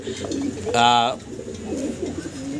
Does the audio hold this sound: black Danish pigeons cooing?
yes